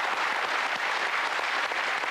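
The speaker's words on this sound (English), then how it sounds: "Give a nice round of applause, ladies and gentlemen." Applause from a television game show studio audience, a steady, dense wash of many hands clapping at once, sustained and even at moderate loudness with no speech over it.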